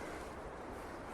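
Small ocean waves wash along the Oregon coast at Cape Meares, heard as a faint, steady surf hiss from a distance.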